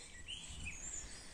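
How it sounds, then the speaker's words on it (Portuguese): Faint, high chirps and tweets from small birds in bamboo clumps on a sunny rural morning, thin and distant over a soft background hiss. "Os passarinhos, gente, estão em festa aqui nas toceiras de bambu hoje."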